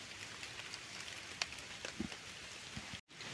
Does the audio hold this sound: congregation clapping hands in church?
no